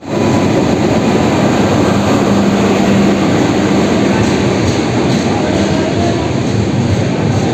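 Inside a sleeper-class passenger train in India, a loud, constant rumble of wheels and carriage noise fills the space without letup, with a faint murmur of background voices.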